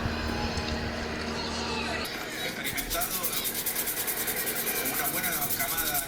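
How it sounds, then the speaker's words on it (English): Fingerboard boards being sanded at a small fingerboard workshop, a rapid rhythmic rasping scrub that starts about two seconds in and continues steadily, close and fairly loud, over faint background sound. "Sanding boards all day."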